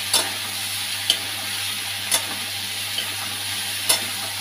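Oil left over from frying shrimp sizzles steadily in a wok as food sticks to the pan, with a spatula scraping and clinking against the metal every second or so, close and clear.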